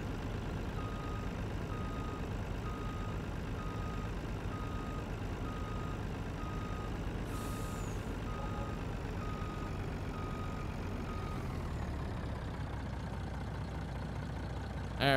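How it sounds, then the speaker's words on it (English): Truck reversing beeps in Farming Simulator 20, a steady evenly spaced electronic beep pulsing over a continuous engine drone, fairly loud and without voices, then stopping near the end as the engine note shifts. "Come on, back up, truck."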